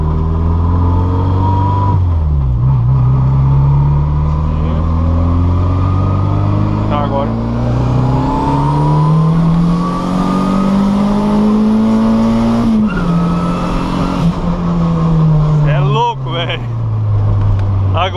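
Volkswagen Gol Turbo accelerating hard, engine revving up through a gear with a rising whine, tires spinning between second and third, then shifting again; loud and close with excited voices nearby.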